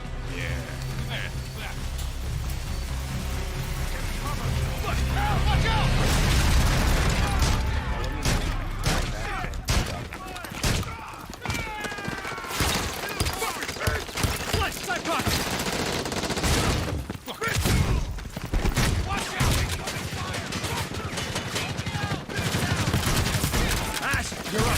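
Bursts of rapid gunfire and heavy booms in a Rainbow Six Siege trailer, under dramatic music and voices, loud and close, with dense volleys throughout.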